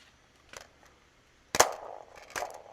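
Magazine reload on a toy AK Draco gel blaster, a few sharp plastic clicks and snaps, one louder clack in the middle, close and fairly quiet.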